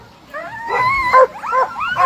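Sled dogs at a race start whine and yip excitedly in quick, high-pitched bursts close by, with wavering cries over a few seconds.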